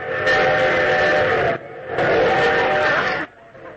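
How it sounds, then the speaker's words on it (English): An old-time radio studio train effect plays two long loud bursts of a rushing train with a steady whistle tone, separated by a brief gap, with nobody talking over it. "I got a new train effect."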